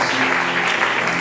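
A church congregation clapping and cheering in praise during a sermon, a continuous wash of applause that stays even and fairly loud for the whole moment.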